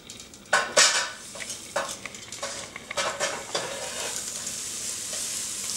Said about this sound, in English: So I'll pull the basket out and we will put the vegetables in the basket first.